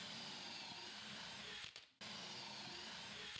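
A power drill bores pocket holes into wood parts for a golf organizer with a fairly faint, steady whirring run that stops briefly and then starts again.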